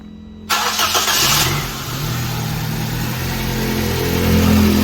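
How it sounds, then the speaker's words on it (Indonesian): A used car's engine turns over and catches, then settles into a steady, smooth idle that hums on without pause, with no rough vibration. "mesinnya terdengar halus, tidak ada getaran yang kasar"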